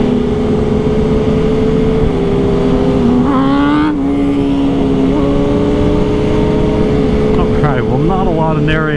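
A pack of superbikes and a supermoto cruises together on the road to a large motorcycle meet, steady engine drone close by with several riders shifting and revving, some brief passes standing out.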